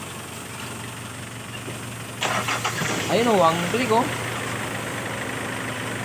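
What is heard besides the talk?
Hyundai car engine starting and idling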